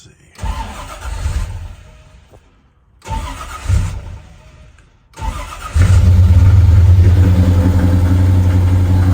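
A 1965 Chevrolet Impala SS with EFI cranks twice in short bursts, then fires on the third try and settles into a loud, steady, rumbling idle, close up.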